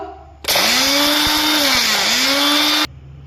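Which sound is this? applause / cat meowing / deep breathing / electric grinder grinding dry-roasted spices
electric grinder grinding dry-roasted spices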